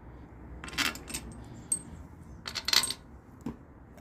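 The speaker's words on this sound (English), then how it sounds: "Now we're going to drop bolts in." Bolts dropped one by one into the intake manifold of a 351 Windsor HO V8 produce several bright metallic clinks and rattles in short bursts, close and fairly quiet, with no talk.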